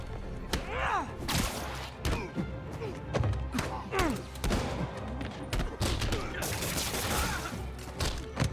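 Criminals open fire in the Marvel's Spider-Man 2 video game, bursts of rapid gunshots mixed with whooshes and punching thuds during a brawl, while characters shout and talk throughout.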